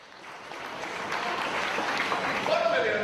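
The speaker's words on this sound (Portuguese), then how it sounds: "Uma salva de palmas." Applause from a crowd at a Ferrari auction after a record-setting sale, a dense steady wash of clapping that swells slightly over a few seconds with no clear speech on top.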